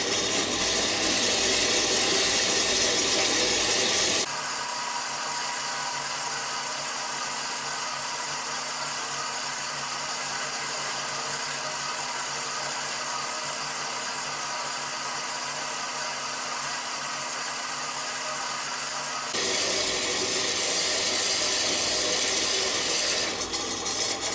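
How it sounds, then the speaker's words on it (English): A bandsaw at its slowest speed cuts through metal stock for a ducting swaging tool, a steady grinding hum with a constant low motor drone, continuous and moderately loud with no talking. "Now I run this bandsaw on the slowest speed in an effort to try and protect the blade life."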